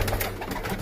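Pigeons, high flyer birds kept for sale, give soft low cooing in a short burst close by, with no talk.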